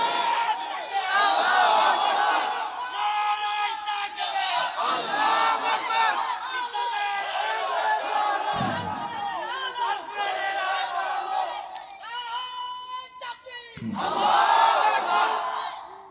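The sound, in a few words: crowd shouting takbir chant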